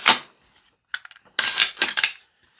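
A VFC V3 URGI 10.3-inch M4 gas blowback airsoft rifle has its bolt dropped forward, giving a sharp metallic clack followed by a few quicker rattling clicks and snaps of handling, close and loud in a quiet room.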